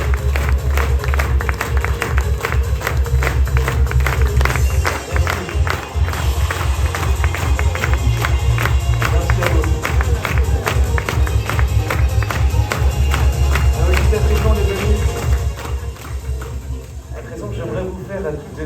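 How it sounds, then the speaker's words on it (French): A dinner crowd at a 70th-anniversary celebration applauds and cheers loudly and continuously, with rhythmic clapping and voices mixed in, fading slightly near the end. "Faites du bruit pour Eric."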